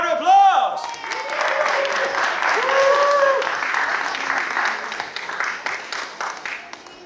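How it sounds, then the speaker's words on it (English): An audience at a live gaming show breaks into loud applause that swells and then slowly fades, with a voice talking over it and electronic show music layered on top. "Give her a round of applause!"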